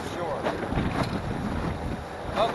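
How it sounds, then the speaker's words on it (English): Wind roars steadily across the microphone on a fishing boat on Lake Michigan, with low rumbling gusts and faint water noise beneath. "Okay, so it is windy."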